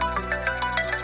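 A phone ringtone plays in a domestic TV drama scene, a steady repeating electronic melody of short bright tones, fairly loud and close, with no talking over it.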